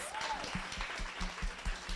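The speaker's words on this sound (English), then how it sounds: "Let's give our panelists a round of applause." Short burst of audience clapping for a women's event panel, fairly close and uneven, with a few distinct louder claps and a rising whistle-like tone near the start.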